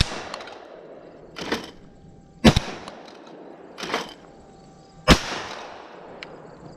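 Mossberg SA-28 shotgun firing at clay targets on an outdoor range, four or five sharp reports spaced a second or so apart, each followed by a brief decaying echo.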